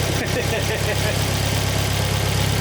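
A Volvo S40 fitted with a Holset HX40 turbo idles with a steady, loud, rumbling engine drone throughout, close by and continuous.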